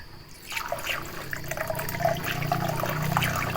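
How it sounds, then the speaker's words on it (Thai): Tap water runs steadily into a container being filled for a homemade cleaning mix, a close, continuous splashing gush that begins after a brief quiet moment and holds without pause. "เปิดน้ำให้เต็มก่อน"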